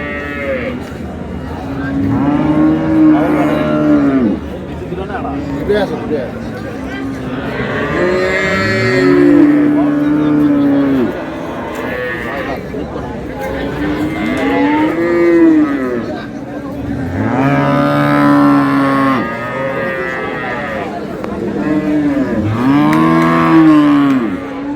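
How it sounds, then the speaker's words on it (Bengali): Cows and calves at Ambari cattle market give repeated loud, drawn-out moos, one after another, with a few faint voices of traders in the background. "গাভী বাছুর।"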